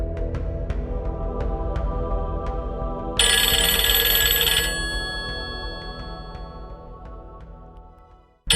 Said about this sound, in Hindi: बिलाल, मैंने तुमको मना किया था कि तुम मुझे फोन नहीं करोगे, तो फिर क्यों किया तुमने?